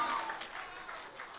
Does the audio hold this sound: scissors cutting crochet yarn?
no